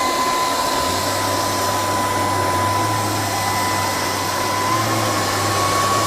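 An LG R9 robot vacuum cleaner runs steadily indoors, a loud, continuous whirring drone with a high motor whine and a low hum that holds throughout without a break.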